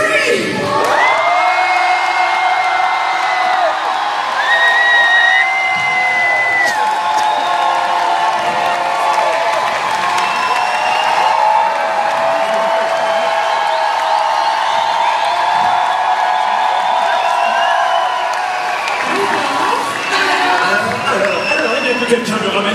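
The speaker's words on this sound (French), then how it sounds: "Et vous, je veux vous entendre crier." An audience screams and cheers at a Disneyland Paris rock opera show, a loud, sustained crowd roar with whoops and shrieks lasting about twenty seconds, with amplified music and voices mixed in.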